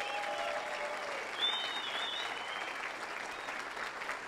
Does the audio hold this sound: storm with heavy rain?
no